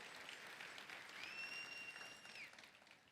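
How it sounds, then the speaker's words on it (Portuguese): A church congregation applauds steadily, a dense even wash of clapping that holds at moderate loudness before easing off, with a faint tonal whine running through the middle. "Palmas para os três, por favor."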